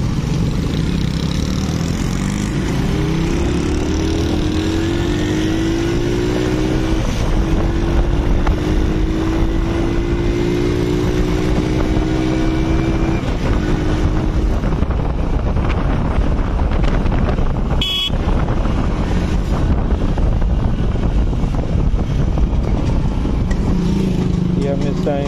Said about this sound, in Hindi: थोड़ी टफ राइड होगी बाइक पे।